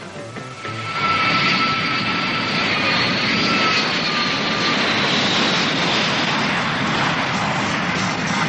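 A United Airlines charter jet carries a hockey team to Boston around 1970. Its steady, loud engine roar fills the cabin after a brief quieter start, continuous and unchanging, with no voices.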